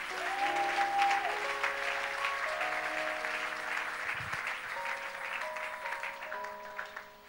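A Sunday church congregation applauds steadily, a dense wash of clapping that fades slightly over the seconds, with sustained musical tones beneath.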